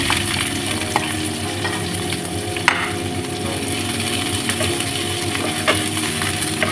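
Onion sautéing in a hot pan for a Filipino-style chicken lobia, a steady close sizzle and frying crackle with scattered stirring scrapes and a few sharp utensil clinks, no talking.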